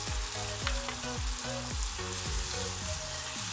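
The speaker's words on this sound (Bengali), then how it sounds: "এবার এই বেরেস্তার মধ্যে আমি সামান্য ডাল দিয়ে সঙ্গে সঙ্গে ঢাকনা দিয়ে ঢেকে দেব।" Chickpea dal sizzling loudly in a pot over fried onions with the lid on, a steady close frying hiss broken by repeated bubbling pops, no voices.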